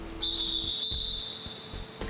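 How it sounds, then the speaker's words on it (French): A single sustained referee's whistle blast at a swimming competition sounds at a steady high pitch for nearly two seconds. It is fairly faint over a low background hum. "Le juge-arbitre effectue plusieurs petits coups de sifflet."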